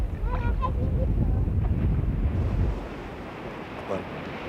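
Wind buffets the microphone over breaking surf at a seaside shore, a loud steady roar that eases after a few seconds, with faint voices and a distant honk-like tone mixed in.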